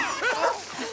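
A dog gives short barks and whimpering yips at close range, with a small movie-set dog vocalising in quick bursts through under a second of sound.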